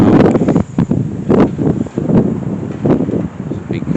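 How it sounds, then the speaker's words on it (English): Strong wind buffets the microphone at Egremont Castle in Cumbria, a loud, gusty rumble rising and falling in uneven surges with no talk. "it's quite windy here, to be honest"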